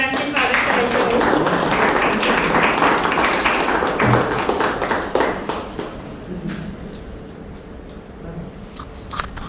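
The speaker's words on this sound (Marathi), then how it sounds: "टाळ्या वाजवून मान्यवरांचे स्वागत करायचे." Audience applause greets dignitaries taking the stage at a prize distribution ceremony for a speech competition, a dense, loud wash of clapping that slowly thins and fades into scattered claps.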